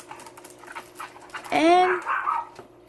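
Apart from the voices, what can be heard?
dog barking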